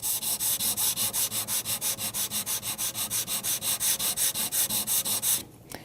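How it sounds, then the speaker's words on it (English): Level sanding of a glue high spot on a finished surface, done by hand in rapid back-and-forth strokes, about thirty rhythmic rasping passes, close and clear, then stopping abruptly. "I'm going to level sand that until the high spot that's the glue boost"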